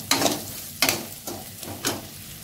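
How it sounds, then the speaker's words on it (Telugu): Dry red chili, curry leaves, onion and ginger-garlic paste frying in hot oil for a tempering, with a steady sizzle and three or four louder bursts as the pan is stirred, close and alone. "పోపు బాగా వేగింది"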